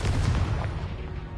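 A Confringo blast spell fires in the Hogwarts Legacy video game, a single loud explosive burst that rumbles and decays over about a second.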